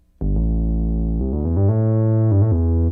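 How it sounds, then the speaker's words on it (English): A Moog Sub 50 synthesizer plays sustained bass notes, entering sharply after a brief silence and then holding thick, steady tones that change pitch a few times, loud and close with no voices. "today you had a sub 50 for your most of the bass, which sounds like this"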